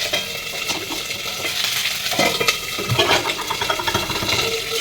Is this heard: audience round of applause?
no